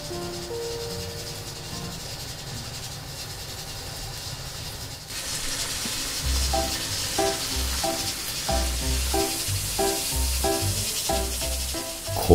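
Oil sizzles and crackles steadily in a large wok, chili bean paste added for Chinese iron-pot braised fish, with a louder burst of frying after a few seconds and soft clattering as something is stirred.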